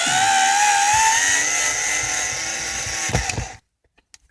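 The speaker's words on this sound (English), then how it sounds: "you can see that I'm just going to try to unscrew the unit" A power screwdriver whines steadily while unscrewing a cabinet unit from a van console, then slows with a few rattling clunks before cutting off into near silence.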